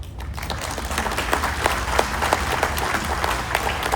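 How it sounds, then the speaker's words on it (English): Audience applause fills a fan expo Q&A hall with a KISS crowd, a dense steady wash of many hands clapping close and loud throughout, with no talk over it. "And the applause dies down"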